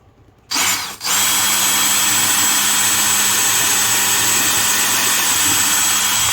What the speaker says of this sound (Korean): 구멍을 뚫어줍니다